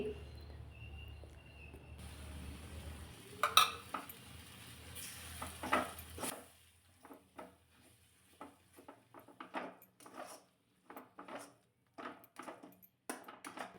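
A dhaba-style vegetable curry is stirred and sautéed in a pan, starting with a soft sizzle, then a series of quiet, rhythmic scraping strokes, faint and close.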